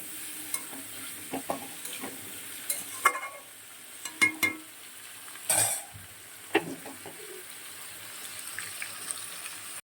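Vegetables frying in a pan for a pui shak dish, a soft hiss under sharp scrapes and clinks of a spatula stirring at irregular intervals, close and without talk.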